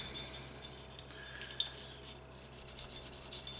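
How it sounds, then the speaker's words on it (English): A small polymer brush scrubs carbon off HK VP9 pistol parts, making a faint, close, continuous bristly rasp in short repeated strokes. "we're going to grab our little polymer brush, and we're going to give it a good scrub down"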